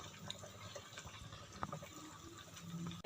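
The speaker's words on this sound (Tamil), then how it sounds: "இப்போ நம்ம வாட்டர் ட்ரைன் பண்ணிவிட்டு இதை நம்ம இதில் சேர்த்துக்கலாம்" Water being drained from parboiled rice during mutton biryani cooking, a soft, steady pouring and trickling of liquid with faint drips and clinks, quiet and continuous throughout.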